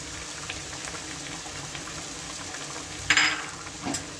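Crushed green chilies drop into a pan of hot oil for a fish-head and taro-greens dish, a brief sharp sizzle burst over a soft, steady frying hiss.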